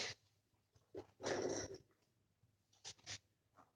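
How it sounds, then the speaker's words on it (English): A dog in a fantasy role-play game makes short, close sniffing and panting bursts, with one longer rough breathy burst and a couple of quick snorts in between. "Ah, what does this dog want from me?"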